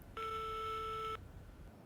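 A telephone tone on a call: one steady electronic beep lasting about a second, heard alone against faint background noise.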